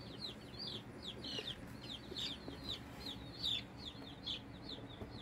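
A group of about 25 young Cornish meat chicks newly placed in their brooder, peeping in rapid, overlapping high chirps at a low, steady level with faint background rustle.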